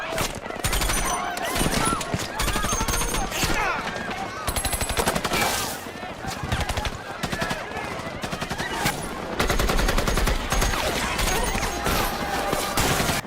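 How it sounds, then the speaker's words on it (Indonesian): Sustained automatic gunfire and rapid single shots fill a film firefight between marines and terrorists, loud and dense throughout with bursts overlapping, while a narrator speaks over the shooting. "Hingga akhirnya kontak senjata antara kedua pihak dimulai."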